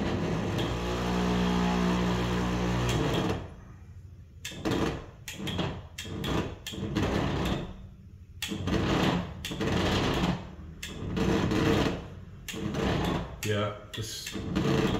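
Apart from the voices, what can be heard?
stepper motor straining and slipping in motorized window blinds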